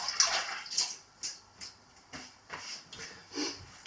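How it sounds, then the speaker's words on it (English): Fingers being washed under a running kitchen tap after handling raw meat, a close splashing stream broken into uneven bursts as the hands move through the water, with no voices. "Wash fingers again."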